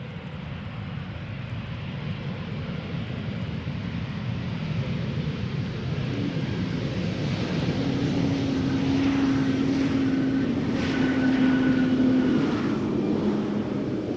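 An Air Malta airliner arriving at Amsterdam Schiphol Airport roars overhead, a broad steady jet rumble that builds gradually to a peak near the end as it approaches, with no talk.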